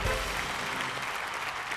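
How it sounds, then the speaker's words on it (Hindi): A short burst of enthusiastic clapping from an audience, loud and even throughout. "जोरदार तालियां"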